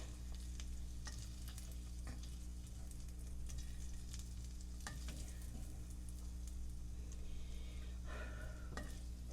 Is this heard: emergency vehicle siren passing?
no